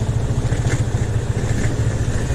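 A motorcycle cruises along an empty road near Bhaktapur, its engine a steady, close, low throb with wind rush over it and no voices.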